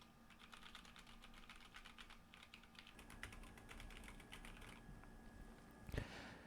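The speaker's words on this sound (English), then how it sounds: "test if the microphones can pick up the sounds of mechanical keyboard" Steady typing on a mechanical keyboard, with quick, fairly faint clicks over a low hum, ending in one louder clack.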